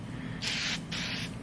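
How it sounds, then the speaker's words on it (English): Aerosol waterless car wash sprayed onto a car in two quick hissing bursts, each about half a second long, close to the microphone over a low background hum. "Now look, you give this a nice spray."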